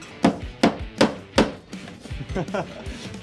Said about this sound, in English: I can't get the angle, so I have to hand nail it.